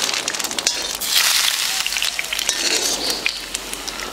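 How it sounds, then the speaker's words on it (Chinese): Hot oil poured over steamed garlic lobster sizzles loudly and steadily, a dense crackling hiss filling the few seconds with no voices. "浇油。"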